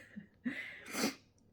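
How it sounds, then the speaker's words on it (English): A single person sneezes once, a quiet breathy inhale followed by a sharp, bright burst about a second in, alone without other talk. "I have to sneeze."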